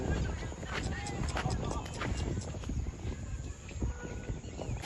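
A mare's hooves clip-clop amid noisy, crowded outdoor commotion with people talking and shouting during flooding in Jalandhar, Punjab.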